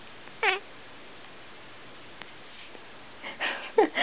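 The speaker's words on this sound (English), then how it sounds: "Good cat. Some good singing." A cat meows while Old MacDonald is sung: a short, close meow early on, a stretch of quiet, then a few more meows bunched together near the end over faint background hiss.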